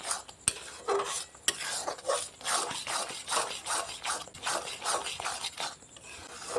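Sandesh mixture being stirred and scraped around a pan as it dries, a soft rhythmic rubbing and scraping with a faint sizzle and a couple of sharp utensil taps against the metal.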